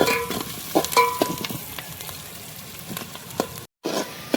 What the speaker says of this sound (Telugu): ఇలా గోల్డెన్ బ్రౌన్ కలర్లో వచ్చే వరకు వేయించుకోవాలి